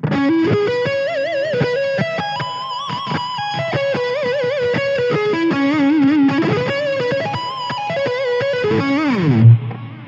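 Distorted electric guitar plays fast sweep-picked seventh-chord arpeggios, sliding through bright rippling note patterns with vibrato, alone and loud, ending in a downward dive.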